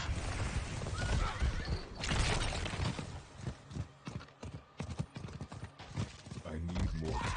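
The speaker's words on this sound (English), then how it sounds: "Just don't get knocked off your horse." Horse hooves clip-clopping during mounted riding in the game Diablo IV, a rhythmic run of hoof beats under game effects and a talking voice, with a brief whinny.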